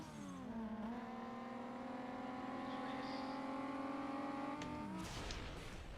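Racing cars in Need For Speed ProStreet roar with a steady high engine drone that holds for several seconds, then drops away near the end, loud and continuous with no talk over it.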